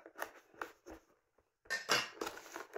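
A knife working at the plastic seal on a boxed Soundcore Boom 2 Bluetooth speaker: quiet, close scraping and crinkling in short bursts with pauses, then a louder stretch of rustling and tearing.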